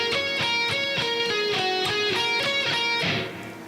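A short electric guitar minor pentatonic lick of evenly picked notes repeats in a tight pattern, clear and up close, before ringing out.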